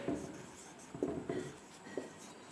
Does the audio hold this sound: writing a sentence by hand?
yes